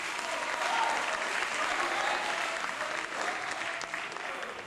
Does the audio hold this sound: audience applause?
yes